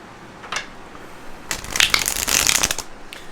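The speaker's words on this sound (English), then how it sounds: "let's shuffle these cards here." Tarot cards are shuffled close by: a brief riffle, a pause, then a longer rustling, flapping shuffle for about a second and a half before settling.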